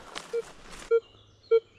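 A metal detector in a forest emits three short, evenly spaced low beeps, faint and isolated, with a brief murmur of voice before them.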